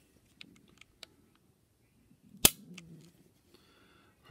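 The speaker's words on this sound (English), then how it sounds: "So you can listen to some of these speeds." Rollei 35 TE compact film camera shutter clicking, a few sharp, faint mechanical clicks spread through a quiet room, with one louder snap in the middle.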